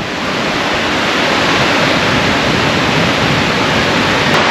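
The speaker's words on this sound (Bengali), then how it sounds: "এই যে একদম সামনে কিন্তু ঢেউ ভাঙছে আমার" Sea waves breaking close by on Tajpur beach form a loud, unbroken broadband roar of surf that holds steady throughout.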